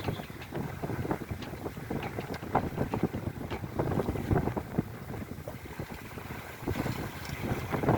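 A sailboat under sail with the foresail slightly luffing, strong gusting wind buffeting close against the microphone over water splashes and creaks, loud and uneven, no talking.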